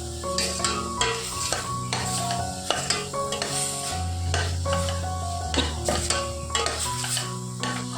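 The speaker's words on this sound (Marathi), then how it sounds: "आता यामध्ये आपण जे भाजलेले पावटं आणि शेंगदाण आहेत ते घालायचं आणि हे मिक्स करायचं छान" Roasted pavta beans and peanuts stirred into spices in a pan, with a continuous close scraping and sizzling and repeated stirring strokes over a steady background of music.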